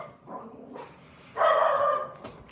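A dog barks nearby a few times, short and sharp, with a louder bark in the middle. No voices.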